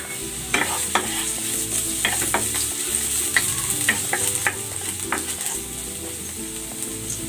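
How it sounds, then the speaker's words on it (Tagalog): Ginger sautéing in cooking oil for Bicol Express, a steady close sizzle broken by repeated scrapes and stirs of a utensil in the pan, continuing alone without talk. "Igigisa ko na tong luya."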